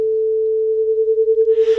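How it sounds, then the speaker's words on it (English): Two pure synthetic sine tones at 440 Hz and 450 Hz sound together as one steady, loud tone whose loudness swells and fades in a slow regular pulse, about ten beats per second. "The two sounds mix just as the added sine waves predict they should, with a slow oscillation in intensity."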